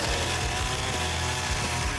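Chainsaw carving styrofoam sections for a floating volcano fishing cabin, a loud continuous buzzing engine drone running throughout the short stretch.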